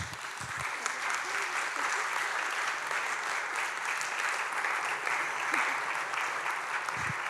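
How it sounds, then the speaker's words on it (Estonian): A church congregation gives a sustained round of encouraging applause, a continuous even wash of many hands clapping at steady loudness throughout, with no talk over it. "teeme ühe julgustava aplausiga nendele inimestele"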